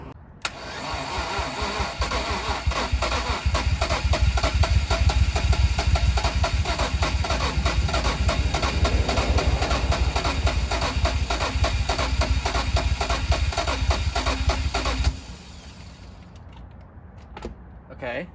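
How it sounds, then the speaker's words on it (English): A turbocharged BMW E46 engine cranks and fires, then runs loudly and steadily for about fifteen seconds before cutting off to near quiet. "We're gonna turn the key for real,"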